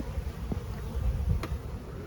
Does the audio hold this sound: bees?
yes